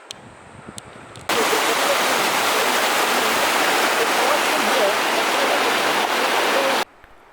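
A steady, loud rush of a waterfall along a stony mountain trail in the Valley of Flowers fills the scene, broadband and constant, starting abruptly and cutting off near the end, with faint sounds before it.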